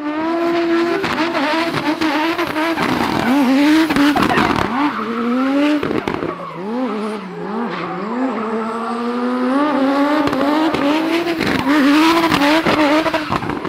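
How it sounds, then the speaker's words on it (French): A Mercedes S300 with the OM606 six-cylinder turbo diesel engine runs loud and close, its pitch repeatedly rising and falling as it is revved, with a rough, raspy tone throughout. "c'est le moteur 6 cylindres turbo diesel qui s'appelle aussi OM606"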